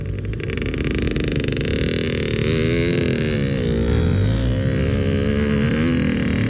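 A two-stroke motorcycle's engine is revved hard during wheelie practice, a continuous loud buzzing drone that rises and wavers in pitch, close by with no talk.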